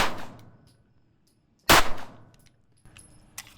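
A Sig Sauer P226 X-Five Legion 9mm pistol fires Fiocchi 115 grain rounds at about 10 yards: one loud, sharp shot after a quiet stretch, with a fainter metallic clink near the end.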